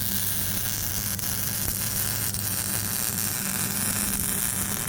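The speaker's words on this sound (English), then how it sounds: "ready to be welded" Welding on the tacked-in shock tower of a Nissan 300ZX Z32, a steady loud crackling hiss and buzz with a low hum, running continuously without pause.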